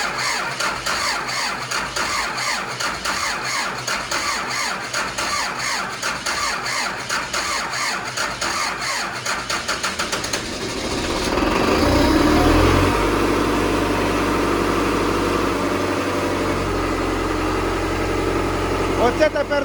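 A cultivator engine cranks with rapid mechanical chugging, then catches and settles into a loud, steady idle for the rest of the stretch.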